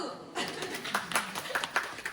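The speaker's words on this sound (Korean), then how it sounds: "오, 박수!" Applause at an education and admissions seminar begins abruptly after a quiet moment, with a small group clapping at moderate volume, some claps standing out, and a little chuckling and voices mixed in.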